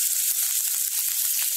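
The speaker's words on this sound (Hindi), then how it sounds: "अब हम इस स्टेज पे ओनियन को डालेंगे" Chopped onion hitting hot oil with cumin seeds in a pan, giving a steady loud sizzling hiss with small crackles throughout, no voices.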